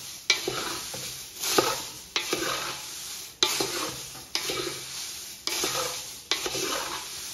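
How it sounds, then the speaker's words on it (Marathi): Oil-free diet poha chivda with peanuts and masala is tossed in a pan, a run of regular, loud scraping sweeps roughly every second, each one rustling dry and crisp, close and with no voice over it. "हे मिक्स करायला थोडा आपल्याला वेळ लागतो, कारण तेल नसल्यामुळं पटकन हा जो काय आपण मसाला म्हणा किंवा शेंगदाणे म्हणा, हे पटकन या पोह्याला लागत नाही"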